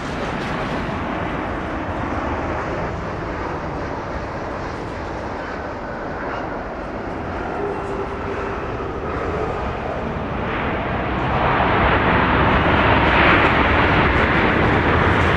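Boeing 737 MAX 8 landing on runway 31 right at Dallas Love Field, its engines roaring in a broad, steady rumble that swells louder near the end as reverse thrust kicks in.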